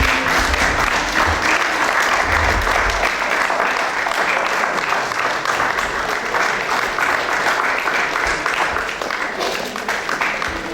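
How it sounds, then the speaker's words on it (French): An audience applauds the fifteen Miss Picardie 2016 candidates as they come on stage at the pageant, with steady, dense clapping that stays loud and continuous throughout. "je compte sur vous pour les applaudir"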